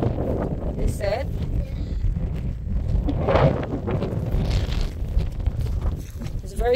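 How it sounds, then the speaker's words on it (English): Strong wind buffets the microphone on an exposed Scottish shore near an oil rig, a steady roaring gust that runs throughout while a voice talks over it. "It's very windy today."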